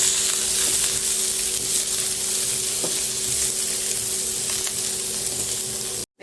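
Chopped onions with fennel seeds, cinnamon and curry leaves sauté in sesame oil, giving a steady close sizzle with occasional stirring clinks, and no voices.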